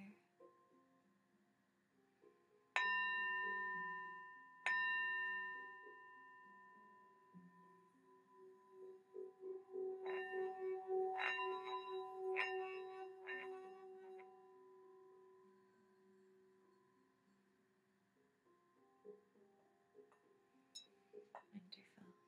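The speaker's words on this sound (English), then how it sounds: "I'm going to ring my bell here." A small hand bell rings several times during a spiritual oracle reading, clear bright strikes with long decaying tones, first two single rings then a quicker cluster, with soft whispered speech in between.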